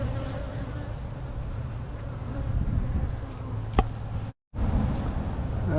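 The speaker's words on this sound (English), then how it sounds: "bees with pollen on their legs." A steady, close buzz of many honey bees rises from an open hive box during an early-season inspection, continuous apart from a brief dropout near the end.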